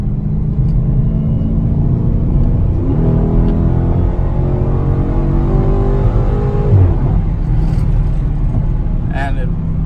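A Dodge Challenger Scat Pack Shaker engine pulls hard and revs upward with rising harmonic tones, a steady loud rumble underneath, then eases off near the end.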